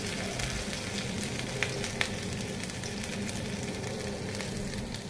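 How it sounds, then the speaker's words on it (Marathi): Ginger garlic paste sizzling in hot oil in a kadai on a gas stove, a loud continuous fry hiss with a couple of small pops, no speech. "ऑइल चांगलं गरम झाल्यानंतर त्यात टाकले जिंजर गार्लिकची पेस्ट।"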